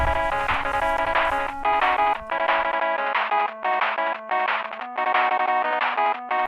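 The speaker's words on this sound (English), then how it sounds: "Budge over here played the Mega Man theme song for me. Real convenient, because it's actually my ringtone" The Mega Man video game theme plays as a phone ringtone, a bright electronic melody in quick repeated notes looping over a steady tone.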